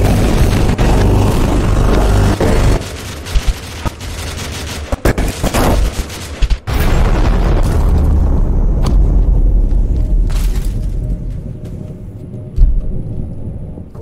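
Heavy iron cannon blasts and booming explosions in the battle royale game Totally Accurate Battlegrounds, loud and dense gunfire-like bursts rumbling continuously, with sharp cracks clustered early then a sustained low roar.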